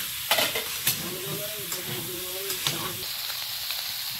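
Soybean chunks, tomato and green chili fry in a pan with a steady sizzle, broken by several sharp stirring scrapes and clinks.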